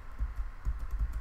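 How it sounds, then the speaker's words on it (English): Quick, close clicks of arrow keys being pressed on a computer keyboard, about five soft taps in a steady rhythm with nothing else heard. "if you just press the right arrow key beside the question mark, keep pressing it"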